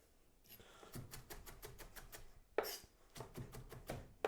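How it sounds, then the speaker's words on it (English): Knife chopping chili, lemon, parsley and herbs on a board for chimichurri, a brisk run of close, sharp taps in steady rhythm with a brief pause partway through. "So just give it a little chop through."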